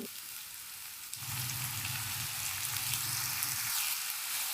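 Chopped onions and cumin seeds fry in oil on a high flame for samosa stuffing, a steady broadband sizzle that jumps louder after the first second and stays close and continuous with no talking.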